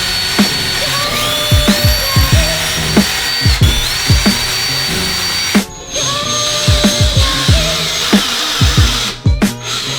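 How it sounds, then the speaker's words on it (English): A power drill bores holes into a laundry room wall for shelving hardware, with repeated loud bursts of whining motor and grinding, short pauses between them and a couple of brief silences. "so I can drill my holes now"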